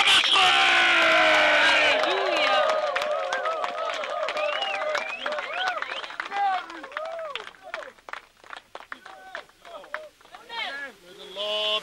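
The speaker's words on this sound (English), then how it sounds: "I want us to give the Lord a clap offering as we welcome Reverend Hamish." Church congregation clapping and cheering in welcome of a reverend, loud whoops and shouts with scattered claps, busiest at the start and then thinning into bursts of cries and clapping.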